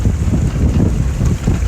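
Strong wind buffets the microphone aboard a small sailboat under way, a loud continuous low roar with gusty swells and faint water wash beneath, no voices.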